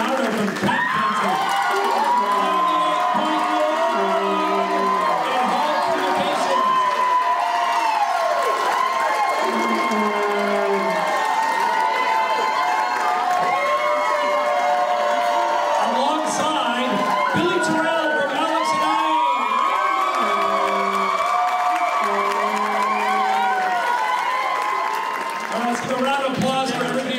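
Sustained applause and cheering from a large audience at a charity grand finale gala, loud and continuous throughout, with excited shouts and whoops rising over a dense crowd roar and a busy background of voices and music-like tones.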